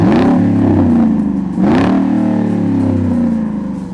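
A first-generation Ford Raptor pickup's 6.2 liter V8 revs close by, loud and deep, with two sharp blips rising and falling over a rumbling idle.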